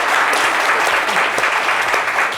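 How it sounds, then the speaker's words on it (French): An audience applauds loudly and steadily on a French-language talk show, a dense close wash of clapping with no pauses throughout. "applaudissez pour ça"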